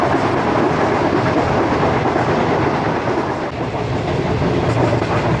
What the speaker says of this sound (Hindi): ट्रेन स्लो डाउन होना शुरू हो गई है